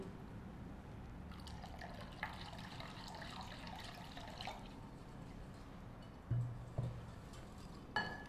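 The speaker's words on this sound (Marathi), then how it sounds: "तूप गरम होईपर्यंत आपण यात पाणी घालून घेऊया." Water poured into a pan in a home kitchen, a faint, soft trickle lasting a few seconds, followed by a couple of light clinks.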